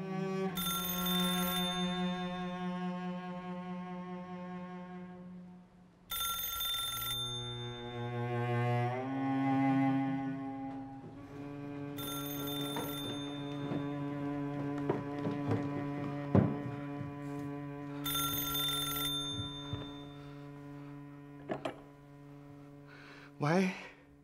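An old-style telephone rings in bursts within a Chinese period drama set in a small Western-style house, each ring a bright metallic trill under a sustained musical score, repeating several times at moderate volume.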